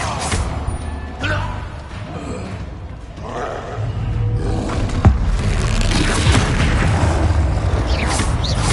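A Descendo spell strikes in Hogwarts Legacy with heavy booming slams and rumbling impacts, a sharp hit near the middle, then layered crashes and effects.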